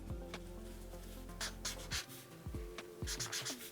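A pen scratches across paper in short strokes while someone writes in capital letters. The scratching is close and quiet, set over a soft, steady musical background.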